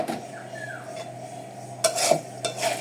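Ingredients tipped into a pan and stirred for chicken fried rice, giving a few scraping, clattering bursts of utensil on metal over a low steady hum, with soft sizzling underneath.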